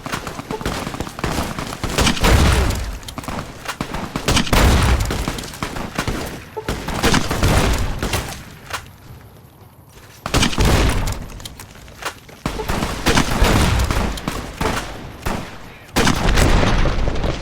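Enemy gunfire in Fallout: New Vegas, with bursts of shots and booming reports hammering in clusters, loud and close, broken by a brief quieter lull midway.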